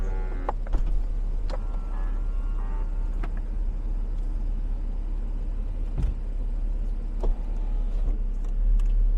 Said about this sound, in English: I'm going to put the top back down.